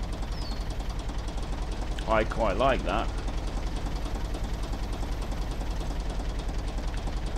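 A tractor engine idles in the farming game Professional Farmer 2014, a steady, even, rhythmic diesel chug throughout, with someone briefly speaking over it in the middle.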